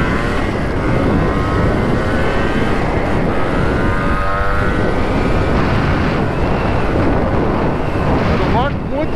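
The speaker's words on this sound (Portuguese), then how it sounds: "Moto anda, já tá bem boa de carburação." A restored Yamaha RX 180 two-stroke motorcycle engine runs steadily while riding, a continuous buzzing drone mixed with heavy wind noise across the microphone.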